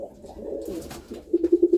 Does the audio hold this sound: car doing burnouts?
no